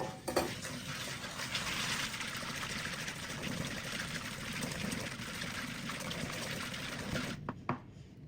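Melted, slightly cooled butter and powdered sugar being mixed in a bowl, with a continuous close scraping and tapping of a utensil against the bowl and no talk.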